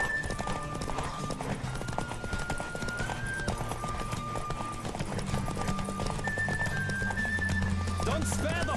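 In The Witcher 3, a horse gallops with rhythmic clip-clop hooves and an occasional whinny, set against game music and a talking voice.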